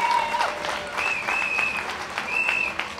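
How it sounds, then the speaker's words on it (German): Outdoor rally crowd at a demonstration for a Europe against nationalism gives brief, dense applause, with a faint whistle tone sounding over the clapping. "Auch ein großer Applaus."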